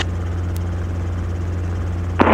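A helicopter flying at low level, about 300 feet, a steady loud rotor and engine drone throughout, with a brief louder burst at the end.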